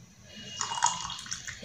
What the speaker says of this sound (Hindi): देखिए थोड़ा सा हम और पानी डालेंगे इसमें